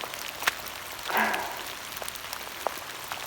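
Rain falling into puddles outdoors on a cold, gloomy December day: a soft, steady patter with scattered individual drops plinking close by, a few slightly louder splashes standing out, and no talk.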